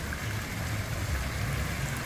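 A small fish-shaped fountain outside the Boll Weevil Cafe in Augusta, Georgia, splashes steadily, a continuous soft wash of falling water heard close by without talk.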